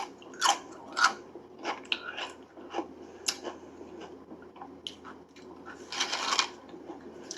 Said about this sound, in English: Can you chew with your mouth closed too, by the way?